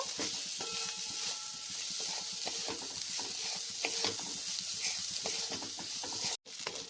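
Vegetables sizzle steadily in a frying pan as turmeric and salt are stirred through them, with scraping spoon strokes against the pan over a continuous hiss and a short break near the end.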